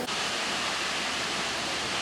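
Jeongbang Waterfall on Jeju Island in Seogwipo, South Korea, as a steady, dense roar of falling water filling the whole clip with no talk.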